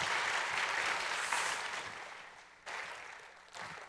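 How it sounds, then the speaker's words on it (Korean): An audience at the 2017 Asan Nanum Foundation N_FORUM applauds steadily for several seconds. The clapping then thins and returns in two short renewed bursts. "이 7분에게 큰 박수로 격려를 해주시면 어떨까요?"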